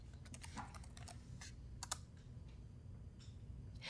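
Keys on a computer keyboard clack in quick irregular bursts, a short word being typed, with soft close taps over a steady low hum and no talking.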